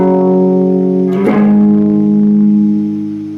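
An electric guitar plays two notes, one after the other, through distortion and reverb-heavy effects, loud and close, with the second note ringing out and decaying slowly, no talking.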